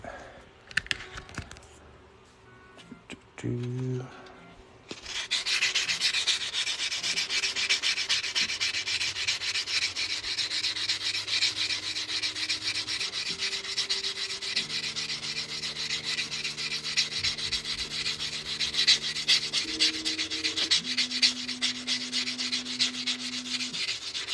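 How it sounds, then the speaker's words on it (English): Steady rubbing and sanding on the cut edge of a coin ring, a continuous close scratchy hiss that runs for about twenty seconds after a few quiet taps and faint hums at the start. "now we're going to sand our cut edge a little bit"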